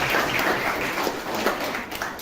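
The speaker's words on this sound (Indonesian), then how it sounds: "Kasih tepuk tangan dulu" A school class of lower secondary pupils clapping together after a group presentation, a dense, continuous patter of hand claps in a room, fairly close and alone.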